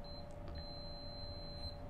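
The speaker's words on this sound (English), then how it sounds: "Anywhere I touch with this lead and we hear that beep, I have continuity." A continuity tester gives a sustained electronic beep while its lead touches the metal of an MRBF battery-post fuse, a high steady tone lasting most of the moment, fairly quiet over a low hum.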